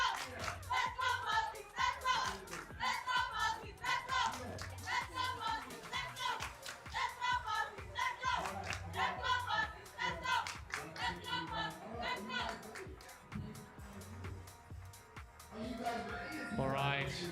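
Cheerleaders at a live gaming championship event cheer and clap steadily in rhythmic chants, a dense indoor crowd sound lasting throughout.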